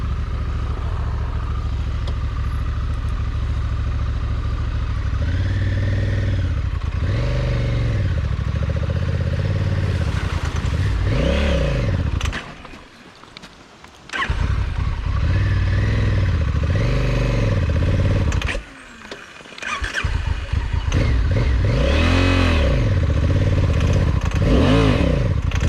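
A motorcycle on a mountain trail ride rolls through a water crossing, its engine loud and close with clattering and splashing, revs rising and falling, with two brief dips where the noise nearly drops out.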